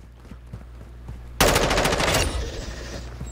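Rapid burst of video game gunfire erupts suddenly and loudly, a dense automatic volley that holds for under a second before trailing off into lingering reverberation and quieter game ambience.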